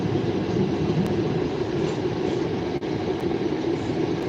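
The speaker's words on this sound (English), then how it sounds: "We got a CSX. Let's roll it and check it out." A CSX freight train rolls past in Edinburg, Pennsylvania, giving a steady, close rumble of wagons with a few sharp clanks.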